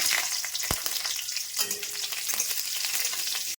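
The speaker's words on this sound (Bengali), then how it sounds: "কড়াইতে দিয়ে দিচ্ছি" Panch phoron and green chilies fry in hot mustard oil in a wok, giving a loud, steady sizzle with a sharp crackle early on and light stirring scrapes throughout.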